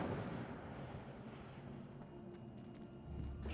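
The Incendio fire spell in Hogwarts Legacy gives off a soft, sustained roaring whoosh of flame, fairly quiet and steady, with a slight swell near the end.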